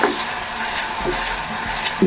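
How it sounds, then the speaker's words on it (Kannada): Tempering frying with tomato and onion for idli sambar: a steady, even sizzle of oil in the pan throughout, close and moderately loud, with faint stirring scrapes and no talking. "ಸ್ವಲ್ಪ ಒಗ್ಗರಣೆ ಜೊತೆ ಫ್ರೈ ಹಾಕಬೇಕು ಟೊಮೊಟೊ ಮತ್ತು ಈರುಳ್ಳಿ ಹೋಳಿಗೆ"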